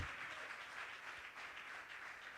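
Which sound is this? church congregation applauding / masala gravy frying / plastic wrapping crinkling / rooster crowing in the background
church congregation applauding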